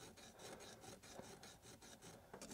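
A metal file rasps across a sword tsuba while the ryo-hitsu opening is being shaped, with about a dozen evenly spaced strokes in a steady back-and-forth rhythm, close but faint, with no talking.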